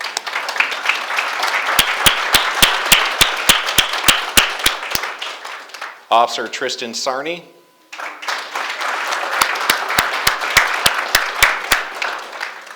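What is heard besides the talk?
audience applauding new officers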